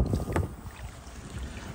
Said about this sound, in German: Es ist schwierig, einhändig zu paddeln hier.